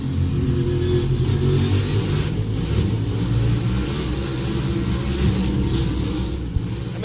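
Race cars roar through the fastest, narrowest section of Watkins Glen with a loud, continuous engine drone that swells slightly as they rev, close and with no talking.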